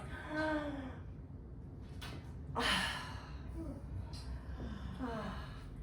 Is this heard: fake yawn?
yes